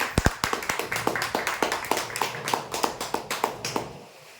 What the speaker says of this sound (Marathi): जोरदार टाळ्या मुलींसाठी